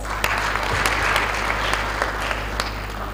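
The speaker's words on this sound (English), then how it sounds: "Can we clap for ourselves?" An audience at a TEDx talk in Kangiwa, Katsina, Nigeria claps together in a brief, steady burst of applause, dense and even, with no voices rising above it.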